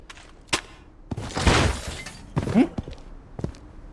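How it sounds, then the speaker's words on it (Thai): A gun shatters in the Bloodstrike video game, a bursting crash with scattered thuds and clicks lasting about a second amid sharp game noises, with a voice chattering faintly. "เสียงปืนพัง"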